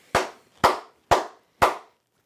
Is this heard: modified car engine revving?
no